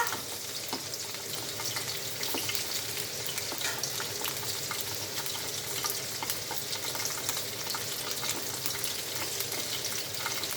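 Cockroaches fry in hot oil with a steady, dense sizzle and crackle, close and continuous, with no talking.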